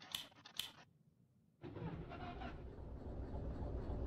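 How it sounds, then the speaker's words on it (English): A locomotive engine in the train game Derail Valley starts up after a few clicks and switch sounds, then settles into a steady, loud rumbling idle that continues to the end. "Okay, so let's start the engine."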